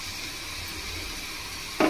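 Mustard tempering for a dosa avakaya mango pickle sizzles in hot oil with a steady, close hiss, ending in a short, louder burst of crackling.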